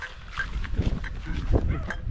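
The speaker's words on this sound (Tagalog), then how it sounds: "Ayan agad, may mga aso na kalaban na agad guys." Several dogs bark from moderately near during a river outing, short uneven yaps and barks overlapping with rustling and some low voices.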